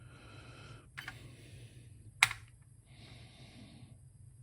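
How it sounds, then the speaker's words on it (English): Keys clack one at a time on a computer keyboard, a few sparse presses with one sharp, louder click midway, set against a low steady electronic hum. "the keyboard's working so much better today"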